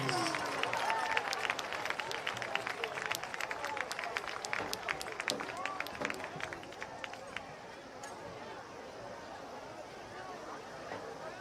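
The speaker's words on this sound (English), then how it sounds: "A big round of applause, please." A stadium crowd at a college varsity football game applauds a high school marching band, a dense wash of clapping and cheering from many people that gradually thins toward the end.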